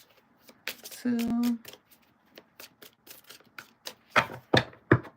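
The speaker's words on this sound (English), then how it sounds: "3 more shuffles." A deck of tarot cards is shuffled by hand in quick, close, papery riffles and taps that come in short bursts. A person talks between the shuffles.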